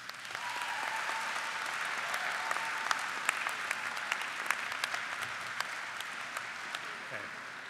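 Graduates at a chemistry and biochemistry commencement ceremony applaud their visiting family and friends: steady, dense clapping from a large crowd fills the hall, sustained evenly throughout with sharp individual claps poking through.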